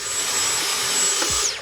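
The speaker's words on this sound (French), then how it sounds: "je passe l'aspirateur sur toute la surface de la table également" A vacuum cleaner runs steadily over the cloth of a billiard table, a loud continuous whooshing drone with a faint high whine, close by and with no talk.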